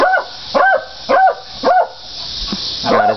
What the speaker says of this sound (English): God, this bark is hilarious.